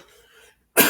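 A single sharp, loud cough bursts out abruptly from someone who is a little sick, following a brief stretch of near silence with faint background murmur.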